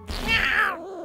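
A single cat meow in the South Park video game, loud, close and brief, a rising then falling cry of under a second, with no talk.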